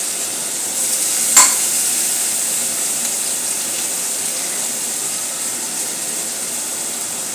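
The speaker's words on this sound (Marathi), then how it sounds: "तो आपण चांगल्या प्रकारे गुलाबी होईपर्यंत तळायचा आहे।" Finely chopped onion fries in a pan with a steady, bright sizzle throughout, a brief sharp clink near the start, and no talking.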